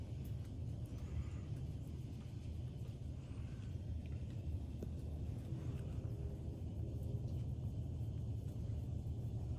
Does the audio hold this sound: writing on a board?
no